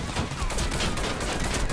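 Dense, continuous automatic gunfire from the video game Warface rattles loudly without a break, a sustained fusillade with no speech.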